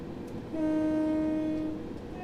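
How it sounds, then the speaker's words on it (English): A Class 375 electric train sounds its single-tone horn in Train Simulator 2018 on the Medway Valley Line, one steady blast lasting just over a second over low rolling rail noise. "Not even a controllable 2-tone horn."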